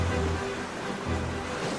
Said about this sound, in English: I can see the rapids ahead